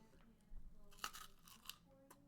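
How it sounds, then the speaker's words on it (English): Crunchy ice cream bitten and chewed close to the mic, giving a few sharp crisp crunches in quick succession over a faint room background. "Mmm, crunchy ice cream."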